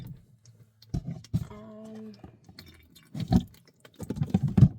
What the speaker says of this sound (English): Because it is dripping.